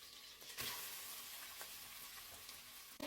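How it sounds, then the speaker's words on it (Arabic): Meat slices frying in butter with mastic, a steady close sizzle and crackle with a few sharp spits and pops, no voices. "هننزلهم في الزبده وهبتدي انزل بشرايح اللحمه بتاعتي"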